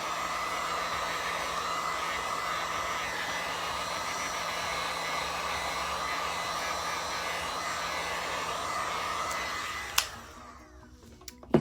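A heat gun blowing over epoxy resin coasters: a steady, close, roaring whoosh of hot air that runs unbroken for about ten seconds, then clicks off and dies away.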